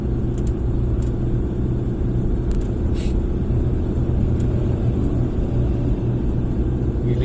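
A steady, low engine rumble from a vehicle crawling slowly uphill on the steep Gumaca bypass road, with heavily loaded trucks nearby; the drone is continuous and close, with a few faint higher clicks and no talking.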